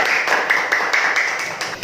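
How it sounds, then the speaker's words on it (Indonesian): A classroom of students applauds a presenting group during a Balinese-language lesson, dense steady clapping from many hands filling the room without pause. "Tepuk tangan untuk kelompok 3"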